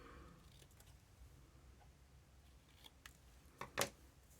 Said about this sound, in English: now I need sharp scissors.